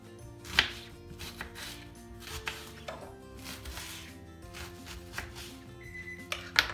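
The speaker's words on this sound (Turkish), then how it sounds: "Şöyle ben birazcık doğruyorum bunları." A knife chops onions and peppers on a cutting board in quick irregular strokes, with occasional light clinks of utensils and no talking.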